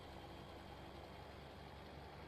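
A tractor engine in Farming Simulator runs at a steady low idle, a continuous mechanical drone with no breaks or speech.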